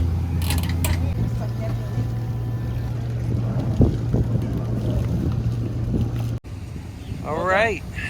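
A boat motoring across open water, its steady engine drone running under wind buffeting the microphone, with a brief splash midway and a voice calling out near the end.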